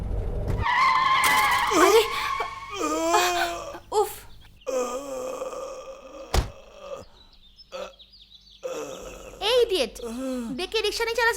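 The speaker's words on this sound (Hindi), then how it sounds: "तुमने गाड़ी लाके रिक्शे वाले पे ठोक दी" In a Hindi movie scene, a car skids and slams into a rickshaw, with a screeching tire squeal and a sharp, heavy thud set among dramatic music and voices.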